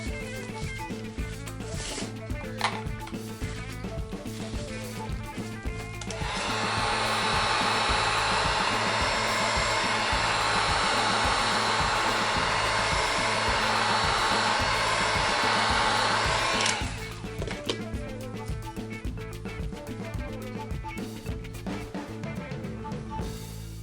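Heat gun blowing hot air onto a resin lip on a charcuterie board before razor trimming, a steady loud whooshing roar for about ten seconds that starts and stops abruptly, with quieter workshop background around it.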